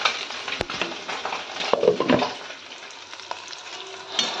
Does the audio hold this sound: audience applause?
no